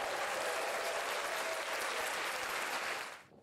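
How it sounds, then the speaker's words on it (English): Applause sound effect played over a livestream, a steady dense wash of clapping and light crowd noise that holds evenly for about three seconds, then fades out quickly at the end. "I'm going to give ourselves an applause."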